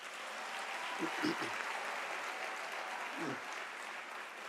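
Quiet, steady applause from the audience at a University of South Africa autumn graduation ceremony, with a few voices briefly rising above the soft, even patter of clapping.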